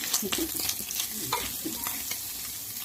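Leftover chicken and cucumber stir-fried in a pan: brisk sizzling under repeated scraping and clattering strokes of a spatula, close and lively throughout.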